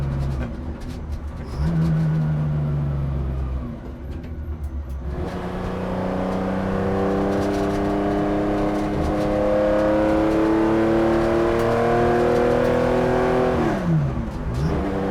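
A 1965 Brumos Porsche 911 driven from inside the cabin, its engine revving and rising in pitch through long pulls with a gear change midway, loud and close throughout.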